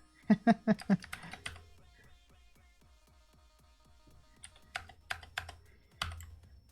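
Keys clatter on a computer keyboard: a quick burst of close typing, a pause of scattered soft taps, then two more short flurries of keystrokes.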